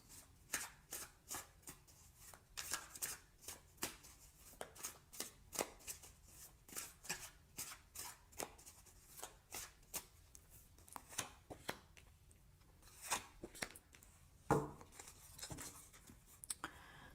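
Tarot cards shuffled by hand at close range, a steady series of crisp riffling slaps and flicks, quiet and continuous with one sharper tap near the end.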